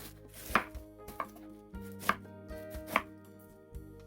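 A knife chops cabbage into thick, long strips on a board in sharp, irregular strokes, about six distinct hits over a low steady background hum.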